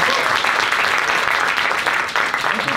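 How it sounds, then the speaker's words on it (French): An audience at a youth theatre show applauds loudly and steadily, a dense wash of clapping that carries on for the whole stretch with faint crowd noise underneath. "donc on peut encore l'applaudir très fort"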